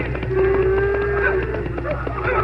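Cattle low in a long, drawn-out moo over a continuous background of more mooing from a large herd of wild cattle, a sound effect in an old radio drama, heard alone without talk.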